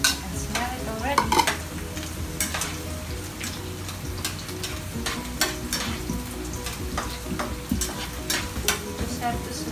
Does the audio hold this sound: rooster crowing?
no